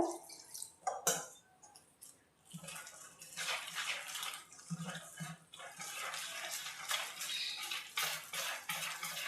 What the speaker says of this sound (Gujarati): આપણે થોડું થોડું પાણી નાખતા જાવું અને મિક્સ કરતા જાવું.